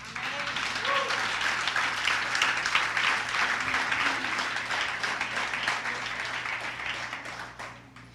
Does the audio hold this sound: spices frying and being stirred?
no